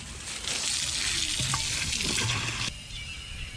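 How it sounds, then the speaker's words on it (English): Garden hose filling a bucket with water outdoors, a steady loud rushing gush that runs for most of the stretch before cutting off and leaving a quieter background. "Just fill it up with water."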